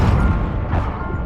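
Incendio fire spell cast during a Hogwarts Legacy battle, a short rumbling whoosh of flame with a soft burst, dense low-end roar under game sound.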